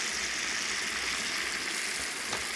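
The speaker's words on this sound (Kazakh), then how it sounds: "Кішкене қуырамыз" Onions frying in oil in a large pot for Tashkent chaikhana plov, a dense, steady, close sizzle with a faint scrape of stirring near the end.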